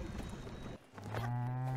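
Cows mooing in the farming game Spiritfarer, one long low moo that rises into a sustained, steady call, close and clear with no talk.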